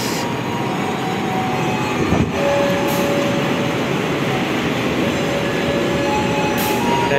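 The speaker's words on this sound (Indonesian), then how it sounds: "Kita akan nyambung naik kereta Banyu Biru." Banyu Biru executive-class train at a station platform on the Semarang–Solo line: a loud, steady rumble of a train with continuous mechanical hum and faint high tones, no talking.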